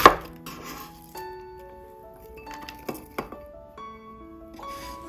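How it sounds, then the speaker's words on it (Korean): Cabbage sliced into thin strips with a knife on a cutting board, a quiet run of crisp chops with faint clinks between them, close and with no talk. "양배추를 먹기 좋은 크기로 채 썰어 주세요."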